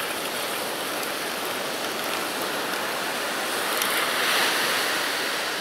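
Ocean waves break and wash onto an isolated beach, a steady loud roar of surf swelling slightly toward the end, with wind noise on the microphone and no talking.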